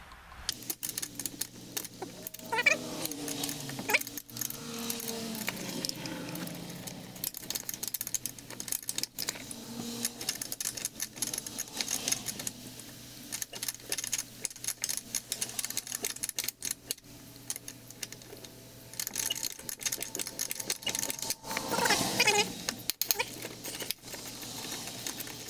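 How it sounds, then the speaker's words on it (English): A 10 mm wrench works a nut loose on the battery of a 2013 Smart ForTwo, giving close, intermittent metallic clicks, taps and light jangles spread over about twenty-five seconds, with no voices. "let's try to get this off just with the 10 millimeter wrench"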